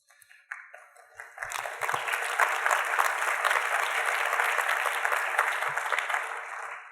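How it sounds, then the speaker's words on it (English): Audience applause at a climate advocacy legislative training event, starting with a few scattered claps, then swelling into sustained, dense clapping from a large crowd that holds steady before tapering at the end. "I think that deserves applause"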